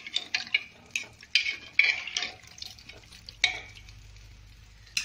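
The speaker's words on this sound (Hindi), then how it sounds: "और सब्जी को अच्छी तरीके से मिक्स कर देंगे।" A potato and soybean curry gets stirred in a pan: a string of sharp spoon scrapes and clinks against the metal, irregular and close, over a soft sizzle that dies away toward the end.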